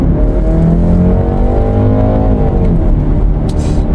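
A BMW X3 20i M Sport Pro gasoline SUV accelerates hard, a loud steady engine drone heard from inside the cabin, its pitch climbing smoothly across the whole run without a break.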